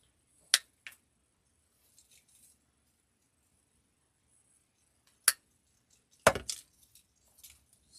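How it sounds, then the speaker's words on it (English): Scissors snipping Norfolk pine pieces while trimming a holiday wreath, a few sharp isolated clips spaced apart with a small cluster of snips near the end, close and otherwise quiet. "I'm going to just trim this all off, y'all."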